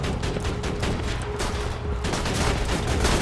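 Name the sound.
turret gunfire in the video game Borderlands 2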